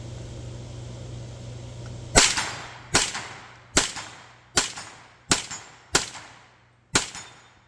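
A Hi-Point 9mm carbine fires seven loud, sharp shots at slightly uneven intervals of just under a second, each crack decaying quickly, with a low steady hum before the first shot and no talking.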